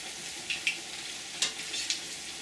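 Food frying in hot oil in a pan, a steady quiet sizzle with a few sharper crackles and pops scattered throughout, close and without talk.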